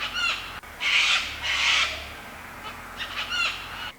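Wild birds call outdoors in loud, harsh bursts, two long squawks flanked by short rapid hoot-like cries, fairly close against a faint hum, with no talking.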